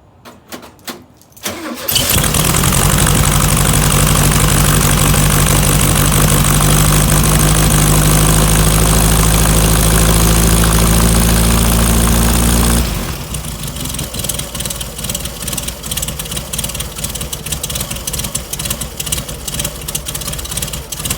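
A classic Volkswagen Beetle engine with dual Weber IDF carburetors, no chokes, and a couple of days unrun, cranks and catches after a brief pause, then roars loud and steady at a high idle before settling to a rougher, lower, lumpy idle.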